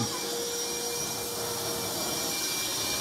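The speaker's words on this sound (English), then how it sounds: "Let's get another vacuum in here." A vacuum cleaner runs steadily throughout with a loud, continuous broadband roar and a faint high whine, set in a flooded space where water is being cleaned up; no talking is heard.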